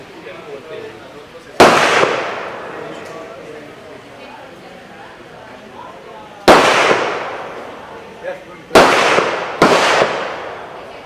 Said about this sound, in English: let's go check out the shooting range. Hopefully someone will fire in a moment.